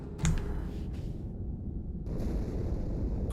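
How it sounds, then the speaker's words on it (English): An explosion in the Halo 2 video game, set inside the ship Athens, comes as a deep, steady rumbling roar with a broad wash of noise and a slight surge midway; no one speaks over it. "Die Explosion kam aus dem Innern der Athen"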